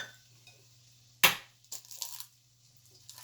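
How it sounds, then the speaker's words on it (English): An egg cracked against the rim of a pan gives one sharp crack, followed a moment later by softer splats and light clicks, close and quiet over a low steady hum. "basically crack our eggs into the pan"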